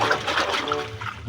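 Running water splashes and trickles steadily while muddy toys are washed, a close, continuous wet rush with no voice over it.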